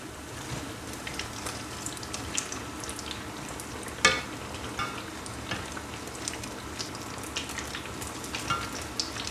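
Banana and sweet potato fritters fry in hot oil, giving a steady close crackling sizzle with scattered pops and one sharper clack partway through.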